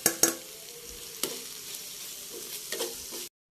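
Onion leaves thoran cooking in a pan with turmeric and grated coconut, stirred with a few sharp scrapes and clatters over a soft continuous sizzle, fairly close and with no talking.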